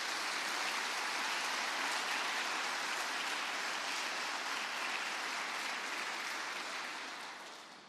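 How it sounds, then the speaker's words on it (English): A large audience applauds for Mike Freilich at a NASA address, a dense, sustained wash of clapping that stays even and full before tapering off at the end. "I would like everybody to give a round of applause to Mike Freilich"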